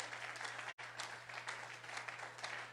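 Faint, steady applause from a church congregation during a Spanish-language sermon, an even wash of clapping with a brief dropout, under a low constant hum.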